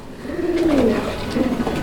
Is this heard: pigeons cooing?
yes